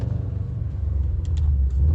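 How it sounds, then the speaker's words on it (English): A Subaru WRX STI's boxer engine rumbles steadily at low pitch, heard from inside the car with a few faint clicks over the drone. "that beautiful sound, you know, the unmistakable boxer engine"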